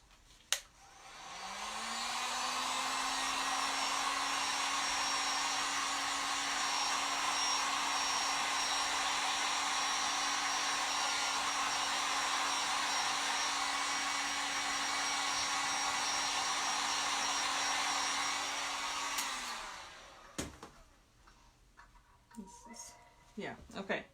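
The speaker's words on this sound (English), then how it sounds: "I'm gonna just hit this with a heat gun" A heat gun blows steadily to dry wet paint on a furniture piece, a loud continuous whooshing roar with a humming motor tone that runs about eighteen seconds before switching off, leaving soft handling clicks.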